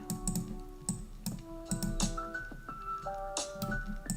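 Typing on a computer keyboard, quick irregular clicks and key taps in bursts, faint and close, with some tonal beeps mixed in and no talk.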